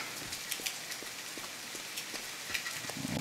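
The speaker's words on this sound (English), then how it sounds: "why the heck did it start to rain now?" Rain in the survival game The Forest, a quiet patter of scattered drops tapping on surfaces with a faint steady hiss beneath, no voices.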